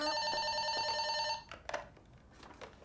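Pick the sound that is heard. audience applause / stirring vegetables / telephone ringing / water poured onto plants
telephone ringing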